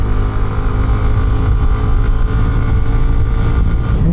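A Yamaha Mio Gravis scooter with its 9.5-horsepower engine runs steadily and close by, a continuous droning hum with a slight rise in pitch near the end, mixed with road and wind rush.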